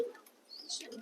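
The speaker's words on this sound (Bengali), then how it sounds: "পায়রাদেরকে খাবার দেওয়ার জন্য এসছি" Pigeons, including blue satinettes, give a brief soft coo and faint chirp at low level in a short, quiet moment.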